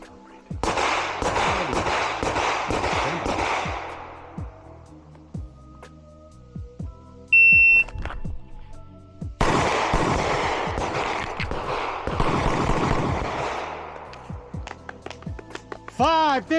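Pistol gunshots at an ASP Skills Summit shooting competition, two rapid strings of sharp, loud, closely spaced cracks separated by a quiet pause with a brief beep, the second string a little faster.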